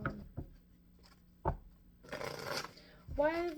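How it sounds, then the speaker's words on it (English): Tarot cards are shuffled by hand with several soft taps and a riffling, papery rush, close and fairly quiet. A voice speaks briefly near the end. "One more shuffle."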